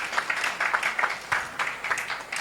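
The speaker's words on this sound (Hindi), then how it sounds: "जोरदार तालियों से मंच पर अभिनंदन।" An audience at a Hindi festival stage event in Jamshedpur claps to welcome a guest, a brief, moderately faint patter of applause with uneven rhythm.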